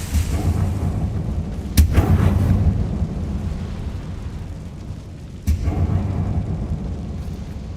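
A Confringo fire blast spell erupts in Hogwarts Legacy, two loud explosive bursts landing a few seconds apart, each a sharp crack followed by a rumbling roar that fades over a steady low background din.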